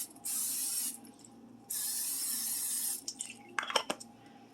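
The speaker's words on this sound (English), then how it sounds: "Go ahead and spray the bread so it toasts up in the oven." Two long hissing bursts of an aerosol cooking spray onto bread before oven toasting, close and steady, followed by a few light clinks of dishes.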